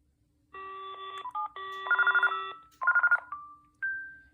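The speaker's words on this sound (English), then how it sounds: "Nice, it has that bass ringer." An AT&T E6014B cordless phone with its answering machine rings out in a bass ringer tone, several clear electronic warbling bursts in quick succession, close and alone in a quiet room.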